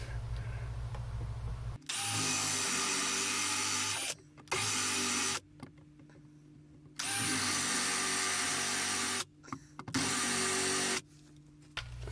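Power drill pre-drilling holes in the wall framing of a Ford E350 van conversion, running in three loud sustained bursts of about two to three seconds each, with short pauses and quiet gaps between them.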